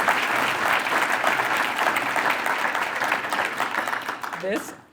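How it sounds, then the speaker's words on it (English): Steady applause from an audience at a community college, a dense even wash of many hands clapping that holds for several seconds and fades at the end as a voice briefly cuts in. "Yay, now we can clap."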